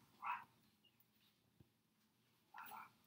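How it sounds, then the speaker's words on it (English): A neighbouring dog barks twice at a distance, faint and separated by a quiet gap, with no voices. "That is my neighbor's dog."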